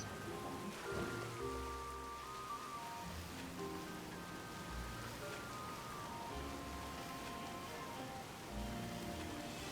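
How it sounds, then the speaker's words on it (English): Steady rainfall in the video game Pokémon Violet pattering on surfaces, a continuous soft hiss with scattered drops and a few faint tones mixed in. "And of course it's raining."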